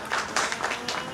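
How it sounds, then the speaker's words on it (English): Crowd applause in the GTA Vice City game, a steady patter of many hands clapping at moderate level with small swells, no talk over it. "You don't know what they're clapping for."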